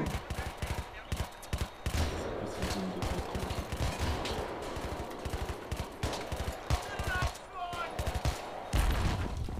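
Rapid gunfire from the video game Battlefield 3 rattles in dense automatic bursts and single shots throughout, loud and close, with a faint voice in the mix.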